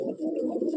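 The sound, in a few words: Madrasi pigeon cooing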